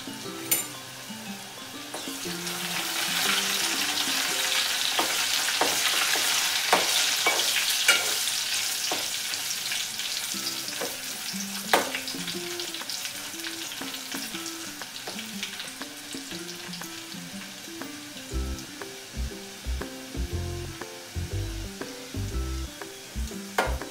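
Spices, asafoetida and garlic tempering in hot oil for a small prawn curry, a loud steady sizzle swelling early then easing, with occasional stirring clinks and soft knocks toward the end.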